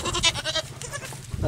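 A young goat gives a short, close bleat in a hillside goat pen with other goats nearby.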